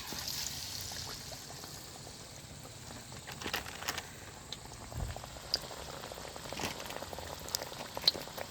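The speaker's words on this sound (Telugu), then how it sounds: "డీప్ ఫ్రై అయ్యేదాకా ఉంచుకోవాలి" Ridge gourd vadas deep fry in hot oil with a soft, steady bubbling fizz and scattered small pops, fairly faint and continuous with no talking.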